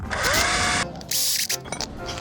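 A power drill whirs loudly and close while pre-drilling holes for a garden gate, running in two or three sustained bursts with short pauses between them and no talk.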